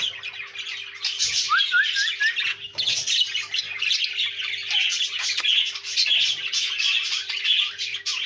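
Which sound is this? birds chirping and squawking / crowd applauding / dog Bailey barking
birds chirping and squawking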